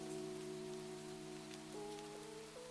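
Steady rain falls in a soft, even patter on a surface, quiet and continuous, with a faint tonal hum running underneath.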